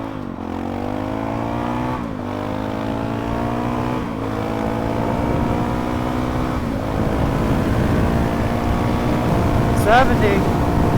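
A Honda CRF450RL dual-sport motorcycle engine revs up through several gear changes on the road, pitch climbing and dropping each time, with steady wind rumble as it rides along.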